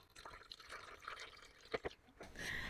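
Water pours and drips into a small indoor hydroponics growing system, an iDOO 10-pod unit, as it is filled with about 2.5 liters; soft trickling runs throughout, with a brief splashy burst midway and a steadier, brighter flow near the end.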